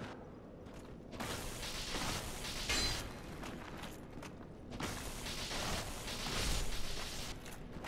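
Heavy stone door mechanism grinding open in Dark Souls Remastered's catacombs, a sustained rumbling, creaking churn with loud surges around three and six seconds, alone without talk.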